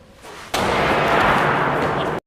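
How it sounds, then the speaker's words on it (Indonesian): A heavy gunshot-like blast in a film scene bursts in suddenly and rings out as a loud, broad roar for over a second before cutting off abruptly. "Mendengar suara tembakan"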